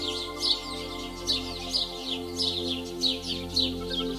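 A small bird chirping in a regular series of short, bright calls, repeated about every half second over a steady tonal musical background.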